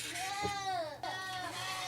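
Etawa crossbreed dairy goats bleat on a Yogyakarta goat farm, a couple of wavering, drawn-out cries standing out over steady background noise.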